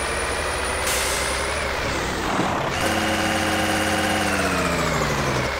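A 1020 hp Kenworth truck in Euro Truck Simulator 2 runs a steady, loud engine drone that dips briefly partway through, then returns as a rising, harmonic-rich engine-brake roar, with no talk over it.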